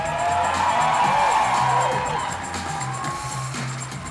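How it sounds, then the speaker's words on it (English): A crowd at a cosplay championship cheers and whoops, a loud, dense burst of shouting that fades gradually over a few seconds. "Huge round of applause."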